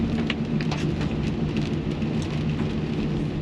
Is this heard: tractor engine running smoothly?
no